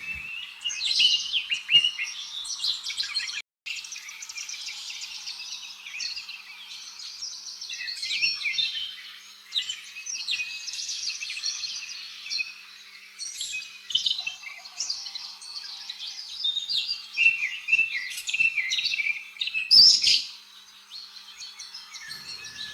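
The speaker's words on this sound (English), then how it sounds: "R for robin." A robin sings continuously in a long, varied run of bright, warbling phrases, close and clear with short pauses, accompanied by a few faint chirps and no voices.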